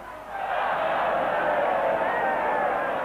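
Rugby league crowd at a Castleford v Wakefield cup semi-final, a broad roar of many voices swelling quickly and holding loud and sustained after a missed drop goal attempt.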